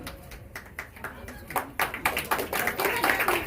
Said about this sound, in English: they're clapping for Canada, just to let you know